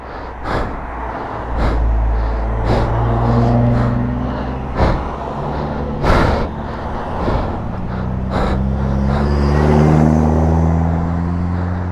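A car running near a bike-police stop, its engine rumbling loudly and shifting pitch as it revs through gears, with sharp clicks and knocks punctuating the steady drone.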